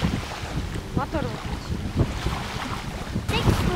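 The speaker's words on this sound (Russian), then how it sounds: "Мотор." A boat moves across water with wind buffeting the microphone and a low engine rumble under choppy splashing, loud and close throughout.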